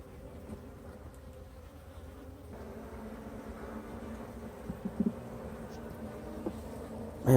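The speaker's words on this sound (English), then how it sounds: "these bees are moving an awful lot. It's a lot of commotion." A swarm of bees buzzes inside an active hive, a steady droning hum of many insects with a few louder bursts, close and continuous throughout.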